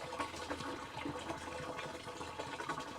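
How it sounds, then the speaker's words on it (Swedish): Half a liter of water pours steadily into 5 liters of petrol, giving a continuous close splashing gush with no talk. "och hälla på en halv liter vatten till detta då."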